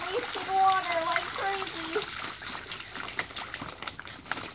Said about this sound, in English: Uh-oh, it's gonna overflow, Pandora.